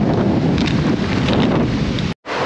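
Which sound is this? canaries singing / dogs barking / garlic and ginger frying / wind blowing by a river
wind blowing by a river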